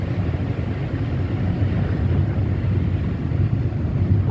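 Steady wind buffeting the microphone on an uphill hillside path, a continuous low rushing roar with no let-up and no voices.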